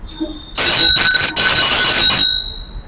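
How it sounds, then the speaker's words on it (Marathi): A bicycle bell rings as a warning on a road near a flyover, a single loud close metallic trill lasting about two seconds with a brief gap, then fading out. "आता तुम्ही या माझ्या सायकलीच घंटी बेल ऐकलेली आहे ही सावधानतेची बेल आहे"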